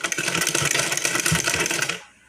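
A sewing machine stitching a golden border onto a round-neck blouse, running in a steady, fast, close-up mechanical whir with rapid needle clatter for about two seconds before it stops.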